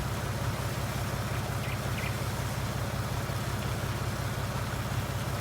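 A tractor engine idles steadily in Farming Simulator 19, a constant low rumble that fills the whole stretch alone, without talk.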